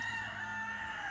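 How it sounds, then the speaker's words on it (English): A rooster crows loudly in a sustained, drawn-out call, bright and steady from fairly near, with no talk over it. "Sorry about the roosters."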